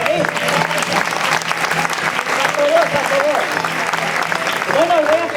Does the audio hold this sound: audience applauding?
yes